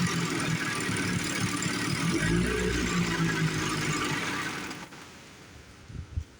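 A rebuilt 15-18HP outboard motor with new piston rings runs steadily at a low, rough idle for about four seconds, then fades out into quiet with a few small knocks at the end.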